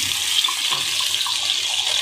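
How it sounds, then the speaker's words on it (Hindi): Water poured onto a hot rawa dosa griddle over a lowered gas flame makes a steady, even hiss and splash for about two seconds, with no voices. "पानी डाल के इसको ठंडा करेंगे हम।"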